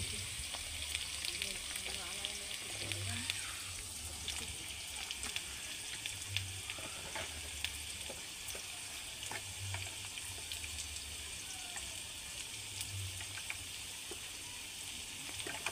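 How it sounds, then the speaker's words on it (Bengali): Potatoes frying in hot oil in a wok, a steady close sizzle with soft stirring scrapes running throughout, no talking. "কড়াইতে তেল নিয়ে সেটা গরম হলে তার মধ্যে আগে থাকতে কুচিয়ে রাখা এরকমভাবে আলুগুলোকে ভেজে নিতে হবে"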